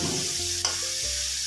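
Prawns frying for a Bangladeshi prawn curry with ridge gourd, a steady close hiss of sizzling in the pan, with one brief scrape of stirring partway through.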